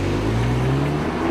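Renault Mégane R.S. engine droning steadily on track, a loud continuous low hum heard from inside the car without speech.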